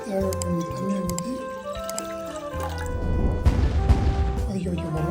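Water pours steadily into a pot for cooking oats, a splashing, filling rush that swells toward the end, with music playing underneath.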